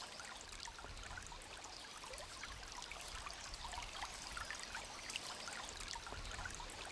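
Water trickles along a small stream in a cool, shady place, a faint, continuous burbling wash with soft splashy flickers, steady and unbroken throughout.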